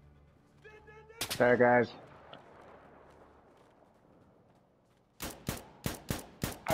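Gunshots in a multiplayer video game: one loud blast early on, then after a quiet stretch a rapid string of about seven sharp shots, with a short spoken remark near the start.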